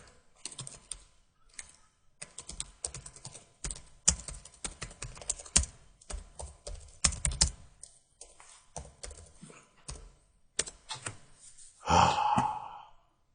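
Someone types an SQL where clause on a computer keyboard: close, rapid bursts of keystrokes with brief pauses, ending in a loud, audible sigh.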